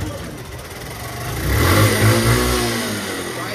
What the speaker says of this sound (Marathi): चालू करता येत नाही गाडी.